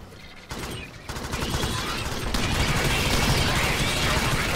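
Gunfire in the video game Alien Swarm builds into a continuous, loud, dense roar of rapid shooting, starting sparse and swelling to steady sustained fire with no talk over it.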